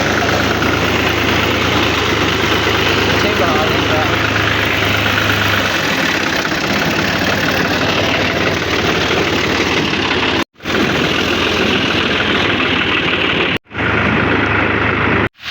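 A tractor engine idles and runs close by with a loud, steady rumble and knocking throb that continues throughout, briefly cutting out a few times near the end.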